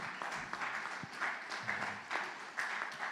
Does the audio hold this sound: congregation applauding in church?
yes